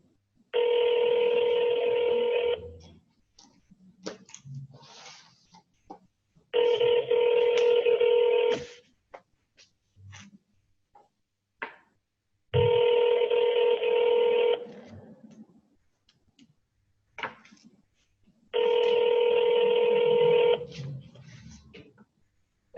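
A telephone call rings out on the line with four long, steady ring tones at even intervals, separated by quiet gaps that hold faint background noises.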